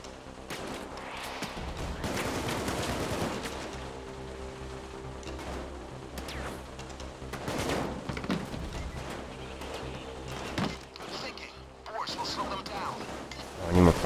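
Light machine gun fire in the heist shooter Payday 2, bursts of shots recurring through a busy mix of game noise, with a voice talking over much of it.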